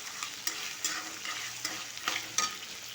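Green chillies fry in a pan for pulihora with a bright, constant sizzle. Repeated scraping strokes of a spoon stir them at close range, and no voice is heard.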